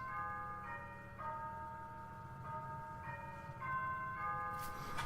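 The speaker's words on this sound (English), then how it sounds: "That was my doorbell" An electronic doorbell chime plays a repeating sequence of bright, clear tones in several rising and falling phrases, with a low hum underneath and no talking.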